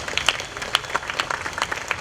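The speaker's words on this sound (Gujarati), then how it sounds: "સૌથી પહેલા તો પોતાના માટે તાળીઓ પાડી દો." An audience at a GLF event with Sairam Dave gives scattered, thin clapping, with uneven individual claps rather than a full ovation.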